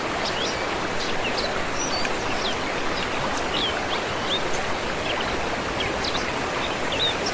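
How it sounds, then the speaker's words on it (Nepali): Shankhadev waterfall at Hupsekot in Nawalpur, flowing through green forest, gives a steady, dense rush of falling water with scattered bird chirps above it, even and continuous throughout with no talk. "हरियाली जङ्गलबाट बग्ने शुद्ध झरनाले यो क्षेत्र रमणीय बनाएको छ"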